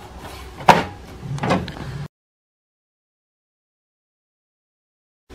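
The front door of an HP Smart Tank printer swings shut: a sharp plastic click, then a second shuffling knock, close up, followed by silence.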